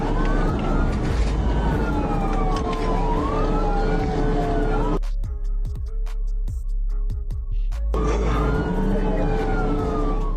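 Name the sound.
police squad car siren during chase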